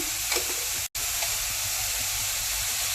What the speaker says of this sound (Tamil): மிளகாய் அந்த எண்ணெயில் வறுபடைச்ச எல்லாம் சேர்ந்து வீடே மணக்கிறது